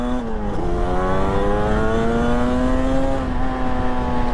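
The engine of an 1980s Yamaha RD350 YPVS two-stroke motorcycle runs close and loud, its buzzy tone dipping briefly and then climbing smoothly as the revs rise.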